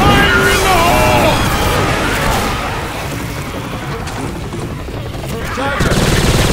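A grenade goes off as a loud boom in Left 4 Dead 2, with a crashing burst and debris, and then dies away into a rumbling tail. Gameplay noise and voices can be heard around it.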